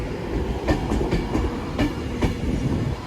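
A passing Avanti West Coast Class 390 electric train pulls away from a station platform, giving a steady rolling rumble broken by several faint rail-joint clicks and knocks throughout, with no voices.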